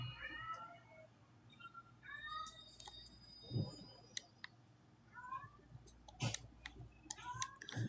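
A cat meows repeatedly in short, rising calls spread across the stretch, fairly faint, mixed with scattered clicks and ticks in a quiet room.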